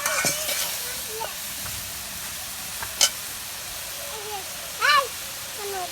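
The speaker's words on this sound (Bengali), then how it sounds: "দেখুন লতি দিলে এইভাবে কষাই নিতেছি" Taro stolons (loti) sautéing in a pan in a village kitchen, a steady soft sizzle with a few sharp scraping stirs and clinks, fairly close and moderately loud.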